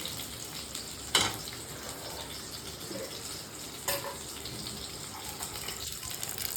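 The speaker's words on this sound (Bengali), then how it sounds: "এই যে ভাজি বানাচ্ছে" Kakrol (spiny gourd) bhaji coated in spiced rice-paste batter frying in a pan, a steady soft sizzle with a couple of sharper crackles or stirring clinks, fairly quiet and without speech.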